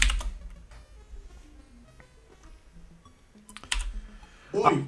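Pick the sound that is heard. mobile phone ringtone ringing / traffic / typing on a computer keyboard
typing on a computer keyboard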